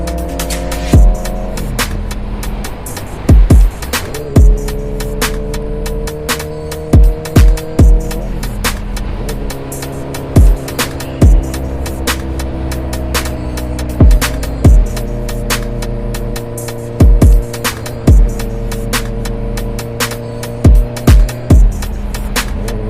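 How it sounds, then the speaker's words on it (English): A motorcycle accelerates through the gears, its engine note climbing in pitch, then dropping at each shift before rising again, repeated several times loud and close with sharp clicks between pulls. "Pull the clutch in, shift the gear, let the clutch out, back on the throttle."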